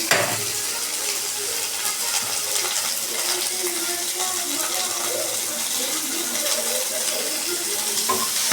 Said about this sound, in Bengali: ভালো করে আমি উচ্ছেটা ভেজে নেব।